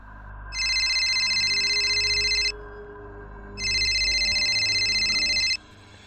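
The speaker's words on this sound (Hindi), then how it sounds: "तभी उसका फोन बजा।" Two long bursts of an electronic telephone ring, each about two seconds, separated by a short pause over a low background hum, used as an effect in a Hindi horror story.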